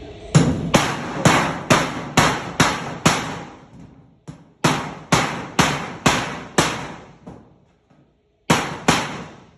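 Repeated sharp hammer blows in quick bursts, about five or six strikes per run with short pauses between, close and loud.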